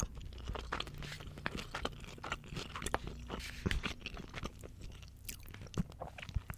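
Crisp, close crunching and chewing of leafy salad from a poke bowl, with irregular bites and wet mastication sounds, no talking.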